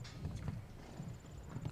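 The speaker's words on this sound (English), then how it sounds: "This is a Dutch-bred horse by Sydney" Hooves of a 12-year-old Dutch-bred show jumping horse owned by Blue Water Farm, competing in a CSI2* grand prix, clip-clopping in a soft, steady walking rhythm at moderate distance.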